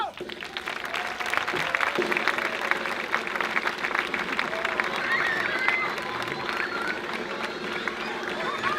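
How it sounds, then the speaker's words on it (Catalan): Audience at an outdoor circus show during a town festival in Mataró applauding a performer, steady dense clapping with some cheering that runs the full length, with voices mixed in. "Un fort aplaudiment per en Relámpago!"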